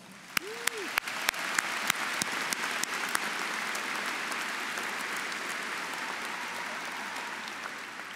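At a spring 2022 Fulbright College of Arts & Sciences commencement, a crowd applauds faculty and staff with sustained, steady clapping, a few sharp individual claps standing out near the start.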